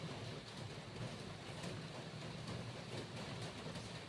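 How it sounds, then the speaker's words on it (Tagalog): Rain falling outside gives a soft, steady hiss that stays faint and even throughout, with no voices over it. "Dito kasi maulan ngayon eh."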